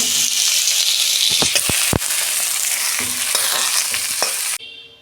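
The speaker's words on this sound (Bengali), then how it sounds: "আমি এটা দু মিনিট ভেজে নিয়েছি" Katla fish sizzles loudly in hot oil for about four and a half seconds, with a steady broadband hiss and a few sharp spatula clacks, then drops abruptly to a quieter tail.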